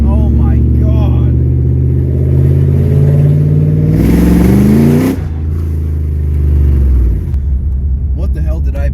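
A BMW E46 fitted with a swapped S62 V8 roars loudly at close range as it accelerates with its tires spinning, the engine note rising then dropping and surging again, with excited voices over it.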